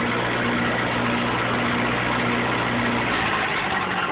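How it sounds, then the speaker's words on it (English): A Lincoln SA-250 pipeliner welding machine with a flathead engine hums at a steady, close drone, then settles down into a lower, smoother idle toward the end. "There she goes down the low idle like a champ."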